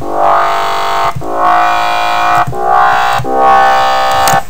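A buzzy, harmonically rich synthesizer bass from a Native Instruments Massive preset plays sustained notes in a repeating rhythm, loud and alone, with a gritty dubstep tone.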